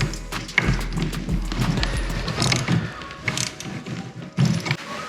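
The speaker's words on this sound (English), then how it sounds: "we're gonna use a Phillips screwdriver on top and a 10mm wrench, or you could use an adjustable wrench" Metallic clicks and knocks of a Phillips screwdriver and 10mm wrench tightening a nylon nut during assembly of a RIDINGTON 24V kids electric go-kart, close up, with irregular clatter and a low hum at the start.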